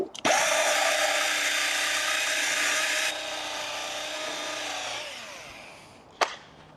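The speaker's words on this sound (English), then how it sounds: "let me just polish this out here." A power polisher buffs out a repaired dent on a car panel, running loud and steady for about three seconds before winding down, followed by a short sharp knock near the end.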